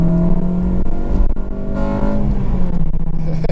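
Honda Integra DC5 2.0 Type R engine running loud and near, a steady droning rev that swells and dips with throttle changes over several seconds.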